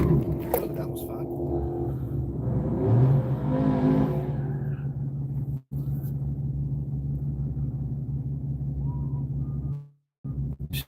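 Chevy car engine idling and running steadily at a race track, a sustained low rumble with brief dropouts, while people talk nearby.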